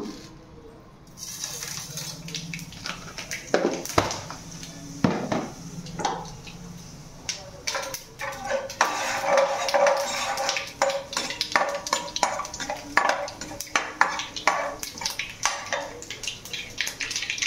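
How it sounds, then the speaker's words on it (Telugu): Tempering seeds hit hot oil in a pan while preparing uggani, a puffed-rice breakfast dish, setting off a busy run of crackling, sizzling pops with occasional clinks of a utensil against the pan, close and fairly steady throughout. "ఇప్పుడు తాలింపు గింజలు వేస్తున్నాను."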